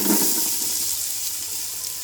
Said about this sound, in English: about 2 tablespoons of cooking oil, which you will need to use to fry the chopped onions